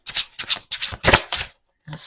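A deck of tarot cards being cut and riffled by hand during a card reading, five quick papery bursts in a steady rhythm, close and fairly loud, then a short pause.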